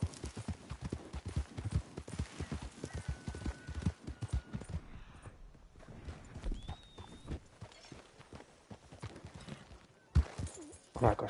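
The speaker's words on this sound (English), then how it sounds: "can my horse just gallop?" Horse hooves gallop in steady clip-clop rhythm through the Red Dead Online game world, loud and continuous for most of the stretch with a brief lull near the middle before the pounding returns.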